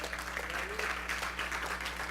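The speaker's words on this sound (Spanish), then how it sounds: "Dale palmas al Señor." Church congregation clapping during a worship service, a dense steady round of hand claps from many people that fills the whole moment at moderate distance.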